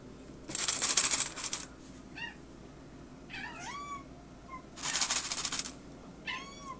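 Hungry kittens meow in short, high, rising cries at dinner time, several calls close by, mixed with bursts of rustling and shuffling noise.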